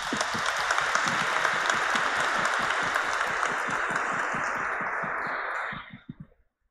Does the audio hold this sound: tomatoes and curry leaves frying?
no